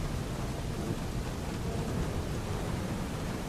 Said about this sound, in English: The rain falls harder now.